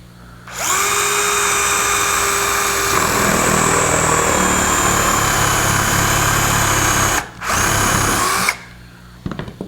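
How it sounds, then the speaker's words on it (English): A power drill countersinks holes in a wooden console table frame: a loud, close whine spins up, drops in pitch as it bites into the wood, stops briefly, resumes, then cuts off. "I'm going to go ahead and countersink these holes"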